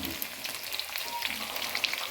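Onions hiss and sizzle steadily as they fry in a pan in a village kitchen, a close, continuous crackle with small spitting pops and no talking.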